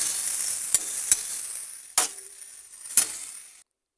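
Cumin powder, garlic paste, ginger paste and green chilli sauté in a pan with a soft continuous sizzle, broken by a few sharp metallic clinks of a spoon against the pan before it cuts off.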